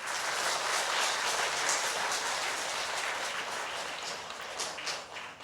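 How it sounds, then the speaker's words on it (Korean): Steady audience applause fills a church community event, a dense even patter of many hands clapping at moderate distance, continuing without a break and fading slightly toward the end. "박수로 맞으시죠."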